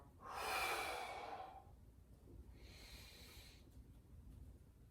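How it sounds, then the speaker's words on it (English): Deep breathing during a stretching and mobility routine: one long, loud breath followed by a second, softer one, close to the mic with no voices. "Big exhale and inhale."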